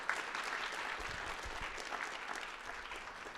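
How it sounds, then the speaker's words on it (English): Audience applause at a peace and justice event in Pennsylvania: a dense, steady wash of many hands clapping together, sustained and even throughout, moderately distant with no speech over it. "Could we have another round of applause for him,"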